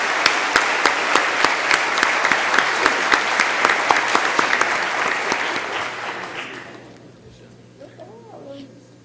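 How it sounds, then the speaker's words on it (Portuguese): Loud, steady applause from an audience fills a legislative assembly chamber at a DeMolay Day session in São Paulo, with dense clapping that carries on for about six seconds before thinning out and fading toward near silence. "Uma salva de palmas ao nosso deputado Bruno Covas"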